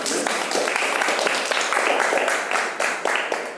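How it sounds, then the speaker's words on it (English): A seated audience at an NGO life-balance session for senior consultants gives a steady round of applause, dense, even clapping lasting a few seconds. "So, round of applause."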